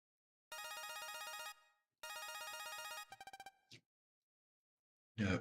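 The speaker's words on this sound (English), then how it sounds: "Phone call." A cartoon phone rings in two long electronic trilling bursts, followed by a few quick chirps and a short squeak, then a brief noisy burst after a pause; loud and clear with no talking over it.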